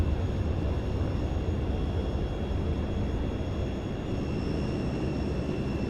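Steady, loud engine drone from a YS-11 turboprop airliner in a flight simulator game, a continuous broadband roar with faint high tonal whines throughout.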